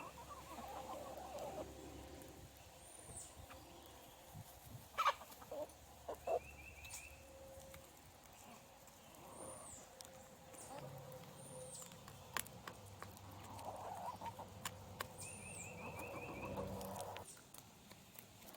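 A flock of chickens with newly added chicks clucks and peeps softly and intermittently, faint and fairly distant, with scattered chirps over a quiet outdoor background.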